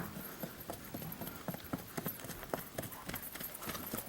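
Hooves clip-clop in an irregular walking rhythm, fairly close, over a steady outdoor background hiss.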